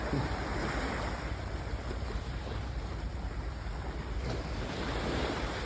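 Surf washing ashore at the secret beach on Boracay, a steady broadband roar of breaking waves with some wind buffeting the microphone, continuous and fairly close, with no voices.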